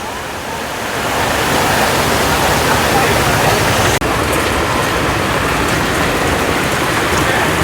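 Heavy rain pours down in Thrithala town centre, Kerala, while floodwater rushes forcefully, making a loud, dense, unbroken roar that swells early on and holds steady apart from one brief cut.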